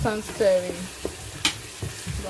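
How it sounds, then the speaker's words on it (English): Canned tomatoes being stirred as they fry in oil in a pot for Nigerian egusi soup, with soft scraping strokes, a few sharp utensil clinks against the pot and a light sizzle. "I will just place it here in, then I cook. I'll stir, constant stirring."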